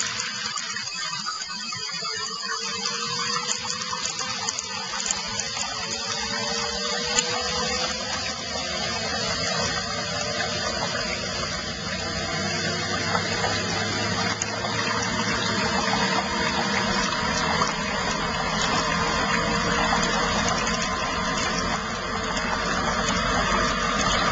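A Laundry Alternative centrifugal dryer spins wet clothes, giving a steady loud motor whine with rushing, splashing water that holds constant throughout, with no talking.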